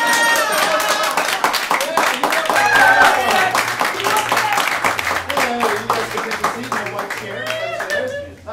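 A live improv comedy audience at a Whose Line show in St. Pete applauds after a scene: dense, sustained clapping mixed with crowd voices and a bit of music running underneath.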